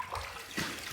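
Hot soaking water poured out of a shaving soap puck, a brief soft splash and trickle of liquid, faint and close.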